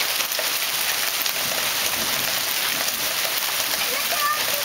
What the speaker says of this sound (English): serious hail.